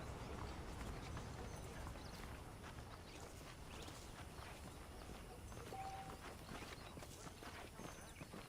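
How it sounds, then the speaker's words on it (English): Saddled horses' hooves clip-clop steadily on the ground in Red Dead Redemption, a faint, even walking rhythm of hoofbeats under a low background hum, with no talking. "The horses are saddled up over here."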